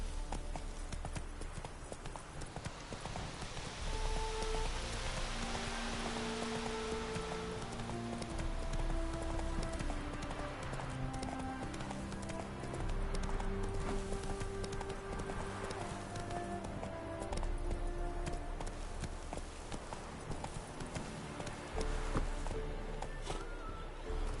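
Horse hooves clip-clop steadily on the ground while riding in The Witcher 3, a continuous even trotting rhythm at moderate volume over a soft rain-like background hiss.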